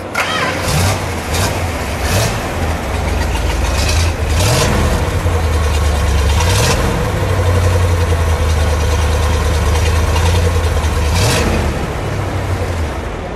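A Plymouth Duster 340 V8 fires up and runs loud and close, its deep rumbling idle broken by several sharp revs that rise and fall, with no talking.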